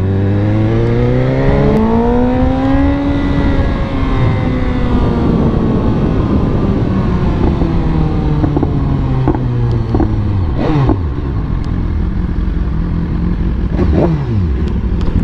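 A BMW S1000RR sport motorcycle engine revs loud and close, rising and falling in pitch through several sweeping throttle blips with a harsh, high-strung wail and clattery exhaust, no talking.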